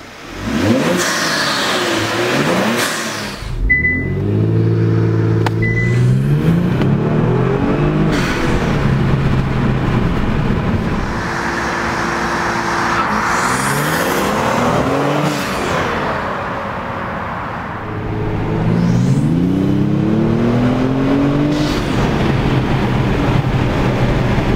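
A 2020 Kia Stinger fitted with a cold air intake revs repeatedly, loud and close, with rising engine sweeps, intake roar and brief drops between pulls.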